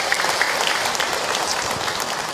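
Audience at an Islamic sermon breaks into steady, dense applause that holds evenly throughout, close and fairly loud, with no speech over it.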